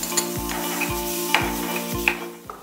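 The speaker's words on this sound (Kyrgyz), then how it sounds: "Бияка туз, кара мурч, чеснок, помидор салабыз." Salt, black pepper, garlic and tomato fry in a hot pan with a steady close sizzle, broken by a regular rhythm of scraping stirs and a few sharp clinks.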